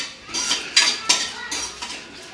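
Biryani masala spices fry in ghee and oil while a metal spoon stirs and scrapes the pan, giving a few sharp clinks over a soft steady sizzle; nobody speaks.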